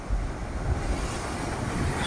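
Waves surge in a continuous rushing wash, with a broad hiss and low rumble and gusts of wind mixed in.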